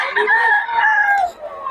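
A rooster crows once, loud and close, in a drawn-out call at a Bocaue market where fighting roosters are sold.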